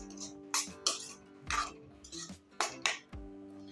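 A spoon stirs spice masala with water in a pan while cooking brinjal curry, giving a series of irregular metallic scrapes and clinks at close range.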